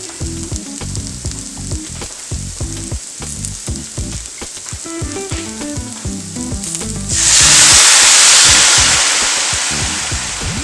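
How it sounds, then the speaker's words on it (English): White wine hits a hot pan for a pasta sauce, first a crackling fry with repeated stirring, then a sudden loud hissing burst of steam that slowly fades. "next we're going to deglaze this pan with some white wine"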